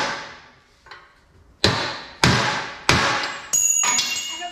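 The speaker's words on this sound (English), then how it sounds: "Big hammer." Heavy hammer striking a 1962 GMC truck frame during a build: five sharp metallic blows, close and loud, coming at uneven intervals, each ringing out briefly before the next hit.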